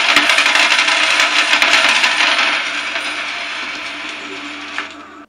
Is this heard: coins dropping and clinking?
yes